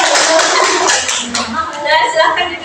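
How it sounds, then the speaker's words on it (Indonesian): Applause for two students after a classroom drama at an orphanage guidance session breaks out as a brief, lively patter of claps from a small group indoors, with children's voices and chatter mixed in. "tepuk tangan dulu untuk mereka berdua"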